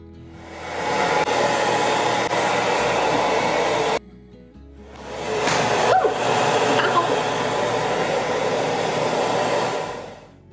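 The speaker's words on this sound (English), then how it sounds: "It takes me a crazy amount of time to blow dry my hair." A hair dryer blowing hair runs as a loud, steady, close roar, cuts off briefly around the middle, then starts again and runs on before stopping.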